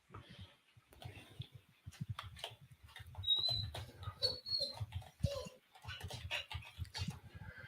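A dog whines and whimpers in short, irregular bursts during a thunderstorm, close by and fairly quiet, with soft rustling movement between the cries.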